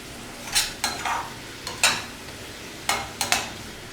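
Sliced mushrooms braising in butter or oil in a pan for an omelette, heard as a steady low sizzle broken by several scraping stirs of a utensil, close and moderately loud with no talk.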